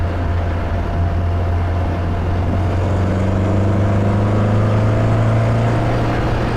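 A 1962 Triumph TR4 sports car drives along with a steady, close engine drone that holds a firm low hum and rises gently in pitch as it pulls, with no talking.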